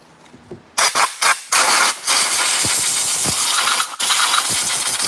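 Loud, close hiss of compressed air blasting fuel out of a Stihl top-handle chainsaw carburetor in several bursts: a few short puffs, then a longer sustained blow with a brief break.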